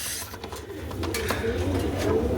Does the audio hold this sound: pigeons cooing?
yes